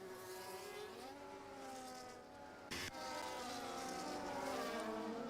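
Race cars in a racing game circuit whine past with rising and falling engine pitch, a brief sharp burst midway, steady and fairly faint with no talk.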